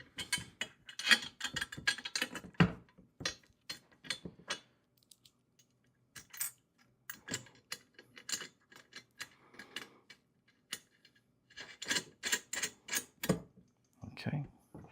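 Bolts and nuts being tightened on a heavy-duty four-wheel garden dump cart: quick bursts of ratcheting clicks from a wrench, close and fairly quiet, alternating with short pauses and someone talking.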